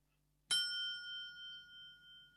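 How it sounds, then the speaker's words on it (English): A small ringing bell sound effect strikes once as a bright, clear ding, its metallic tone lingering and slowly fading over about two seconds, alone against near silence. "It's the little ringing bell with the question mark that gets me with that."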